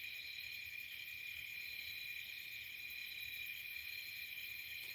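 Insects chirp steadily outdoors on a quiet night, a dense continuous high-pitched trilling drone with no pauses, moderately loud and unaccompanied by voices.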